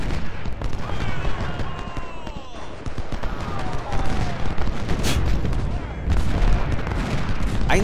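Cannon and rifle fire in the Civil War video game Ultimate General, Fredericksburg battle: continuous loud volleys of musketry with heavy booms, including a sharp crack near the end, dense and unbroken.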